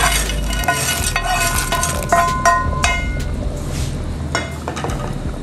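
Fideo noodles tipped into a pot of half-cooked potato for sopa de fideo con queso, frying with a light sizzle while a spoon stirs and clinks against the pot in scattered bursts, close and steady with no talking.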